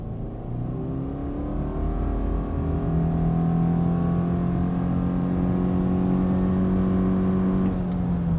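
A 2020 Subaru Forester Limited with a CVT in S mode accelerates steadily, its engine drone holding a near-constant pitch that rises gradually without shift breaks, heard from inside the cabin with no talking.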